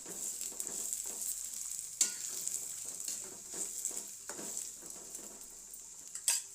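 Green chillies and sliced onions stir and fry in a hot pan, a steady close sizzle broken by the scrape and knock of the spoon against the pan.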